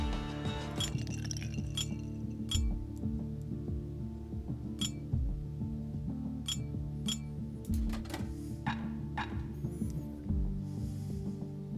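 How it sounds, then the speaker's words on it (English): Glass clinks and chimes as a distillery's private reserve bottle is opened in the video game Bastion, with scattered bright clinks and soft rattles over a low, steady musical bed, no voices. "Just the occasion to crack open the distillery's private reserve."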